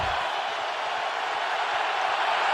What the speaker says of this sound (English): The crowd gets into it here on 4th down